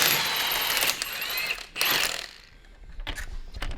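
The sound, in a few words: wheel socket used on car wheel nuts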